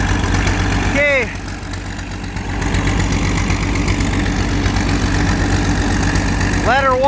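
An old D-8 tractor engine idles on a cold morning, a loud, steady low rumble throughout with a brief dip in level, plus short high squeals near the start and end.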